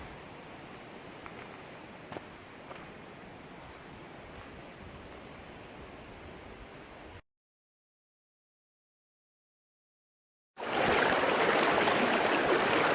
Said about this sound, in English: This is right where Raider Camp Creek flows into Harper Creek